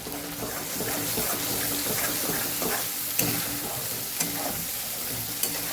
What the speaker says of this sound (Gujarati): તો અહીંયા ડુંગળી અને ટમેટા મસ્ત એવા સતળાઈ ગયા છે. તેલ સરસ છૂટું પડી ગયું છે.